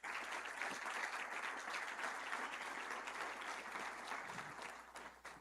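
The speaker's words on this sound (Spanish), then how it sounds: "Dale un fuerte aplauso al Señor Jesús." A church congregation applauds steadily throughout a Sunday sermon service, a dense, sustained wash of many hands clapping at moderate distance that tapers slightly near the end.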